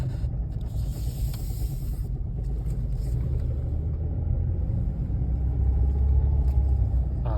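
A 2013 Ford Taurus SHO with the 3.5L EcoBoost engine idling with a rattle, a close, steady low rumble with fine mechanical clatter that swells slightly toward the end.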